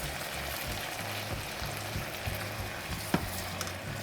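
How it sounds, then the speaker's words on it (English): Chicken and vegetables stir-fry sizzle steadily in a pan, a dense, continuous frying hiss with a few soft clinks and stirring scrapes, close and alone without talk. "stir-fry chicken with vegetables"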